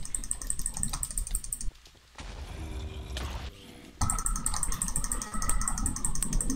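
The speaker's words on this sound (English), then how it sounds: "I hope you can't hear my clicking because we I'm clicking furiously right now" Rapid computer mouse and keyboard clicks rattle close by during a Dwarves vs Zombies game session, layered over steady game sound with a brief quieter gap in the middle and no talking.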